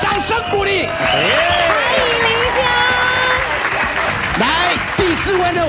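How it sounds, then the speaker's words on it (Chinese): A studio audience on a Taiwanese variety show gives loud, sustained applause with some cheering, while excited voices talk and call out over the clapping throughout. "掌声鼓励"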